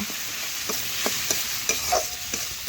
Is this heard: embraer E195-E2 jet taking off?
no